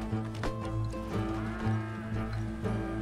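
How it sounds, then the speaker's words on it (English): A cow in the video game Red Dead Redemption 2 lets out low, drawn-out moos, repeated several times over a steady game soundscape. "It mooed."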